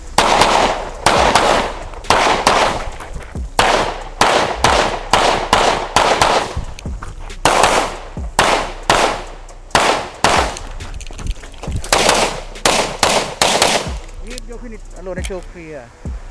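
Competition pistol shots in an open-division shooting match crack loud and close, fired in quick bursts of sharp reports with short pauses between strings, echoing briefly, ending in quieter handling noise.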